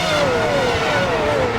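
A race car on a track drones past with a continuous high engine whine that slowly falls in pitch, loud and steady with no talk.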